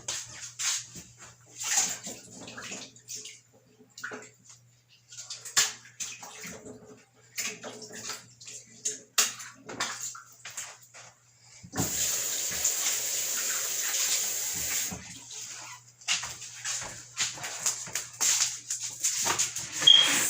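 A tap runs into a sink to soak bundles of greens for smoothie prep: scattered handling clatters and splashes, then a steady rush of running water for a few seconds, then more intermittent splashing.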